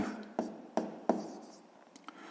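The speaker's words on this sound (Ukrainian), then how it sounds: "записуємо тоді в нашій таблиці" A pen scratches quietly across paper while numbers are written into a table in a sixth-grade maths exercise, with a few short distinct strokes followed by softer scribbling.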